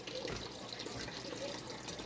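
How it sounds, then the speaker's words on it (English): An aquarium vacuum hose siphons water from a dirty tank, giving a steady, faint, close trickling and gurgling flow with no talk over it. "I got my vacuum hose in the tank"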